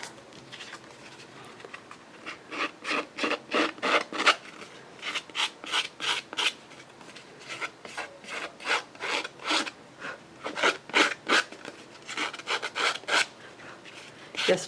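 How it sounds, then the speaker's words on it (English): Scissors snipping around the edge of an inked paper oval, a close series of rhythmic rasping cuts in quick bursts with short pauses, fairly soft and without talk. "I'm going to go around the edge of the oval with my scissors."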